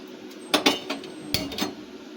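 A pressure cooker is set onto a gas stove, giving a few close metallic clanks and scrapes in two short clusters, fairly quiet in a home kitchen where eggs and potatoes are being boiled for egg cutlets.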